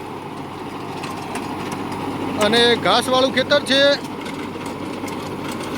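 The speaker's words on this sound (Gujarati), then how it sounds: "હાલ બીજા લોનની અંદર ચાલે છે ટ્રેક્ટર" A Preet 6049 Yoddha tractor pulling a rotavator through a damp grass field gives a steady, fairly close engine drone that runs under a voice, heard in the middle of the clip.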